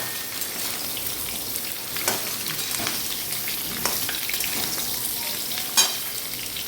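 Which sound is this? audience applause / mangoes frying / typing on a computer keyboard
mangoes frying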